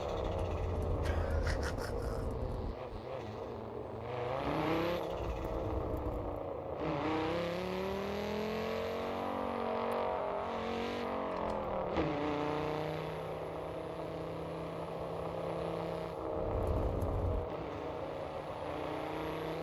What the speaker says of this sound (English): this sounds like properly straight piped